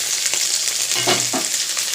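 Vegetable stalks sizzle steadily in a hot pan, a constant frying hiss with a couple of soft stirring scrapes partway through.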